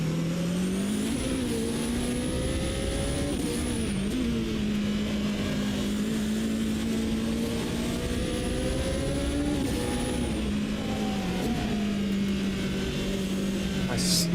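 A GT Ferrari race car in the Automobilista 2 driving game drones steadily up and down through the revs, with brief dips where the H-pattern gearbox is shifted, loud and continuous throughout.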